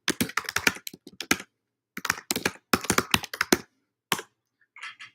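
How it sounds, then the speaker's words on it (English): Close, clattering keystrokes on a computer keyboard during a college lecture, typed in fast irregular clusters separated by brief silences, with a few softer taps at the end and no voices. "I'm typing right now, so just give me a minute."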